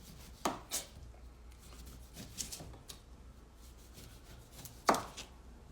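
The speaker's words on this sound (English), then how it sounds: "my lemons, I'm gonna try to kind of peel those" Lemons peeled by hand in a kitchen, a few quiet tearing and snapping sounds spaced irregularly against a near-silent background.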